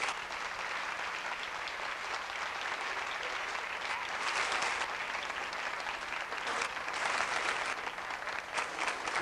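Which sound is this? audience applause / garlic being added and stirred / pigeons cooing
audience applause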